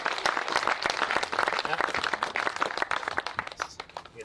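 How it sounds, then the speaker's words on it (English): Wedding guests burst into applause during a ceremony, a dense, steady patter of many hands clapping for the whole stretch, close and fairly loud with no talk over it. "Round of applause"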